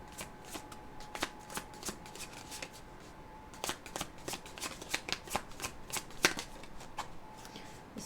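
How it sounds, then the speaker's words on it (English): Tarot cards being shuffled and tossed, a string of quick crisp flicks and slaps at close range, soft overall with a steady faint hum beneath and no talk. "They're throwing cards at me, sorry."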